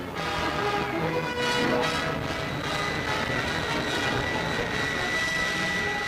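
An early jetliner roars over Idlewild Airport, a loud sustained jet engine rush with a broad hissing whine, steady and close throughout.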